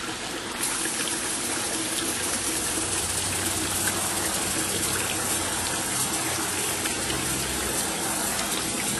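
Water runs continuously through a garden water feature, a close, steady splashing and trickling flow with no voices.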